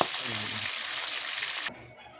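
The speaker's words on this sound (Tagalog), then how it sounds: "baliktad na natin ang ating tilapia" Loud, steady sizzling of tilapia frying in hot oil in a pan, a dense crackle that drops suddenly to a softer hiss near the end.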